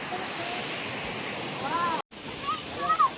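Waterfall water rushing near a glass bridge, a broad continuous roar with wind buffeting the microphone, briefly cut out midway, and a voice faintly heard over it.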